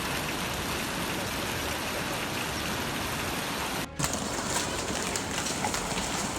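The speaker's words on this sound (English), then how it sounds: "East Texas was hit with giant golf ball-sized hail" Golf ball-sized hail pounds down in East Texas as a dense, steady roar of impacts that fills the whole clip, broken by a momentary dropout before the clatter resumes.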